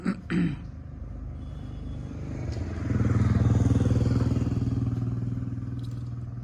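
A brief clatter opens, then a motorcycle engine starts up and idles with a loud, steady rumbling drone nearby.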